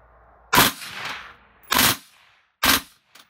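Three sharp gunshots crack from a Winchester Armament gun, spaced about a second apart and close by, each leaving a brief echo, followed by a faint click.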